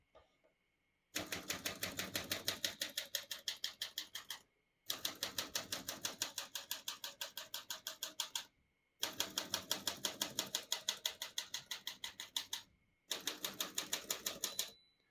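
Rapid, crisp mechanical keystrokes of a 1937 Corona Standard portable typewriter in four long bursts, separated by brief silent pauses, close and clear.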